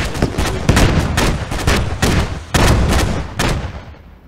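Incoming rocket artillery fire in a combat zone, a rapid series of loud sharp booming blasts about half a second apart, close and harsh, with no talking.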